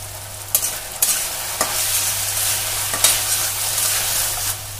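Chapati noodles with spring onion are sautéed in a pan, with a continuous close sizzle broken by several sharp scraping stir strokes at irregular intervals under a steady low hum.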